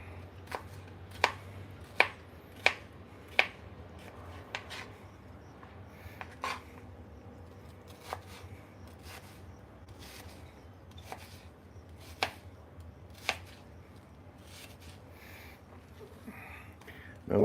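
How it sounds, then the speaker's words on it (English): Onions are rough chopped with a knife on a board for chili, a run of crisp, fairly loud chops, quick at first then more spaced out, with quiet room sound between. "we're just kind of rough chopping these onions"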